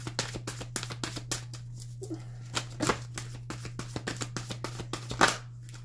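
Tarot or oracle cards being shuffled by hand during a card reading, a steady run of crisp riffling snaps and soft slaps close by, with no talk, over a constant low hum.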